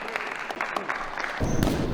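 Applause from an audience at a boxing event swells up near the end, a dense patter of clapping after a stretch of noisy crowd ambience.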